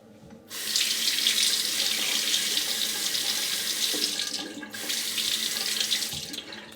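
Water runs from a tap into a bathroom sink during wet shaving, a steady close hiss and splash that starts abruptly, breaks briefly near the end, then resumes, with no voices.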